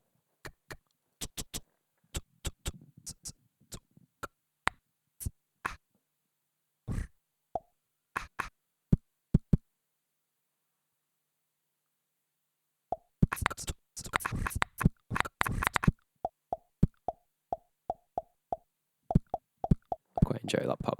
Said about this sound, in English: Quite enjoy that pop sound.